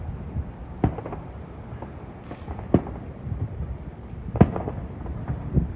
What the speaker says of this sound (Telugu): ఎయిట్కి స్టార్ట్ అయినాయి. క్రాకర్స్